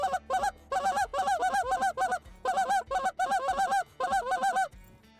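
A DRC Call Co goose call blown in rapid rhythmic bursts of sharp, nasal honks, close and loud, grouped in quick runs with brief pauses between, no talking.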